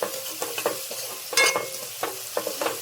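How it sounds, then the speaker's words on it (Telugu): Onions fry in a pan with turmeric and rock salt, the hiss and sizzle broken up by several scraping strokes of a spoon that stirs them close by. "చక్కగా మనకి ఉల్లిపాయలు కొంచెం దగ్గరకు వచ్చేసినాయండి, బాగా మగ్గిపోతున్నాయి"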